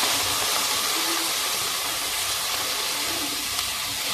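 Tomatoes sautéing in a pan over softened onion for palak paneer, giving a steady, close, broadband sizzle and hiss that runs evenly throughout with no talk.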